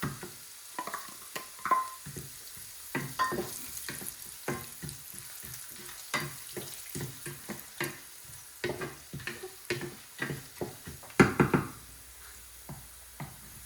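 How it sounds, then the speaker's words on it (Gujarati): Sesame seeds and curry leaves crackle and pop in hot oil for a Gujarati green potato chevdo, with dense irregular spitting bursts and occasional stirring clatter, close and fairly loud, no voices. "હવે આપણે આ તલ લીધા છે એ નાખીશું."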